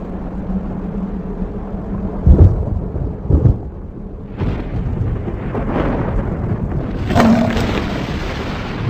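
Thunderstorm in the rainy season on the African savanna, with rolling thunder rumbling through the whole stretch, a few louder close cracks and booms standing out, over a steady wash of rain.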